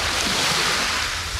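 Strong wind roars over a reservoir in the Kursk region, a loud, continuous rush with water lapping beneath it and buffeting against the microphone, with no voices.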